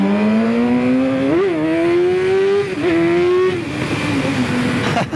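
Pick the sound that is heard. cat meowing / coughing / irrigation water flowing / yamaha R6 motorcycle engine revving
yamaha R6 motorcycle engine revving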